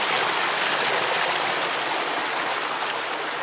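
Water gushes steadily from the delivery pipe of a solar-powered tube well with a 15 hp motor running on 18 panels, a loud, even rushing hiss that holds without pause.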